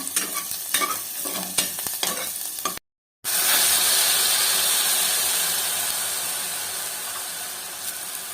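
Onions frying in a pan for a small-cut mutton curry, loud steady sizzling and hiss with occasional stirring clicks in the first seconds; after a brief dropout the sizzle continues as a dense, even wash that slowly fades a little.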